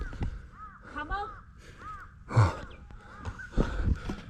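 A crow caws several times along an island hiking trail on Somaemuldo near Tongyeong, its harsh calls at moderate distance mixed with people talking and breathing heavily nearby.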